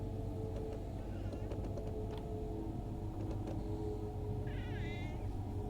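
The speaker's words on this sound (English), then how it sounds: "Probably hear the cat is here now." Cat meowing inside a train cab on a Deutsche Bahn BR 146 locomotive run along the Kinzigtalbahn, giving a few faint, short rising meows over a steady low engine and rail rumble.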